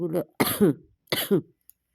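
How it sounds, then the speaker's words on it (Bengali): An unwell person gives two short, harsh coughs about a second apart, close to the microphone, with silence between them. "ভয়েস রেকর্ড দেওয়ার সময়ও আ মানে আমার কাশি হচ্ছে"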